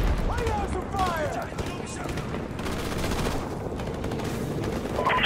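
Machine gun fire in a Call of Duty 4: Modern Warfare Remastered battle on a bridge against tanks: continuous, loud overlapping volleys fill the scene while voices shout over them.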